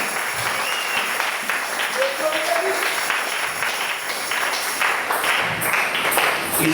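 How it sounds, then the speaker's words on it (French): Congregation applauding for the Lord during a sermon, a dense, sustained wash of clapping mixed with voices and some cheering, steady and fairly loud throughout. "Applaudissez pour le Seigneur"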